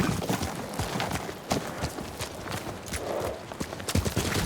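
Horses' hooves clip-clop steadily at close range in the video game Ghost of Tsushima, a brisk irregular patter of many hoof strikes over several seconds with no talk.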